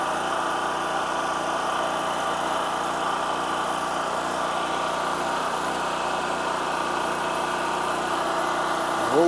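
A small portable generator engine runs at a steady idle, powering a Starlink satellite dish. It gives an even, unbroken mechanical hum and buzz at constant loudness for the whole stretch, with no talking.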